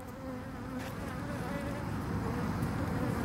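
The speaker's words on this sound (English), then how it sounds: "There's a bee on the camera." Honeybees buzz around an open hive, a close, steady droning hum that swells slightly as the insects move near, with no talking.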